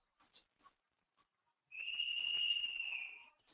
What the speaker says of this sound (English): Can all of you hear this whistling sound in the background?